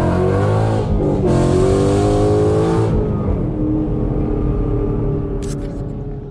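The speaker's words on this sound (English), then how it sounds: "I'm just letting the clutch out, tires are spinning." A Ford Mustang S550 doing a burnout with the factory line lock, a loud sustained engine roar with rising revs and a harsh screech from the spinning rear tires, close by, then easing off toward the end.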